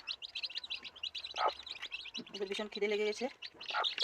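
Hungry chicks chirp in rapid, high, overlapping peeps as they eat beside their mother hen, close by and continuous under someone speaking.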